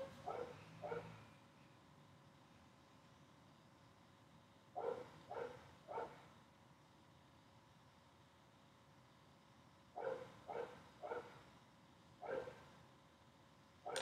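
A dog barks in several short bursts of two to four barks, separated by long quiet gaps, moderately distant and clear over a steady low background hum, with no one talking.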